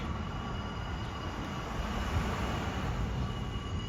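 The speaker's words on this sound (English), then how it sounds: "The only thing that when you live here, very close to the subway, it's very noisy." Steady, loud rumble of a New York subway train running close by in Brooklyn's Bushwick neighborhood, a continuous roar with faint metallic wheel hiss throughout and no voices.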